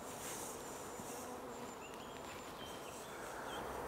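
Dense, steady buzzing of many honey bees at an open hive in a colony sick with chronic bee paralysis virus, a continuous close-up hum with no voices.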